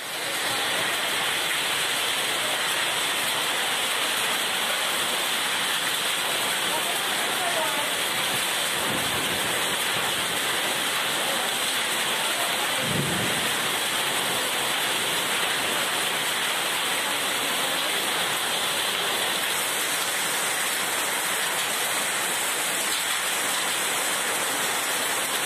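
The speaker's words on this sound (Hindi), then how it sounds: "शाम को 6 बजे के करीब शहर में जमकर आंधी तूफान के साथ जमकर बारिश हुई" Heavy rain pours over a city during an evening thunderstorm in Nagpur, a steady dense hiss that runs loud and continuous throughout, with a couple of faint low rumbles midway and no talk.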